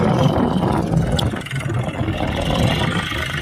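A John Deere 4x4 tractor engine runs steadily up close, a loud, continuous mid-pitched drone with slight rises in revs and no pauses.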